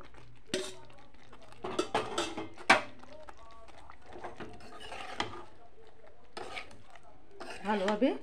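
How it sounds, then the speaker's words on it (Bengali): Cauliflower florets tumble into a pan for a paneer dish, with scattered clattering hits of metal and utensils against the cookware. Bursts arrive in short, uneven clusters, fairly close, over quiet stretches. "এখন দিয়ে দেব ফুলকপিগুলি।"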